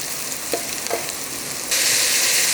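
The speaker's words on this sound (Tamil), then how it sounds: "இப்போ ஒரு 3 தக்காளியை நல்லா பொடி பொடியாக கட் பண்ணி வச்சுட்டு அதையும் போட்டுக்கலாம்." Finely chopped tomatoes tossed into a hot pan for Madras fish curry, a couple of soft stirring knocks followed by a sudden, loud wash of sizzling that continues to the end.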